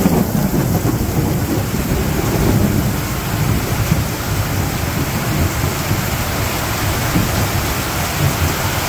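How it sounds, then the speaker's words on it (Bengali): Village thunderstorm with lightning and heavy rain, a loud, continuous wash of rainfall close by under rolling low thunder that swells and fades throughout. "কি পরিমাণ চিলকাইতেছে আর কি পরিমাণ বৃষ্টি হইতেছে"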